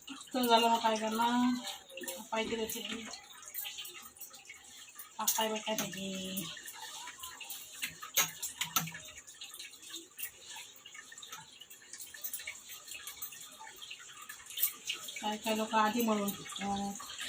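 Water is poured in small amounts into finger millet (nachni) flour while mixing dough for vadas, giving short splashing trickles at the start and again near the end, with people talking in between.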